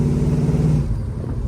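A 1970 Chevrolet Chevelle SS with a 454 big-block V8 rumbles from the exhaust at the rear, a loud, steady idle that eases slightly toward the end.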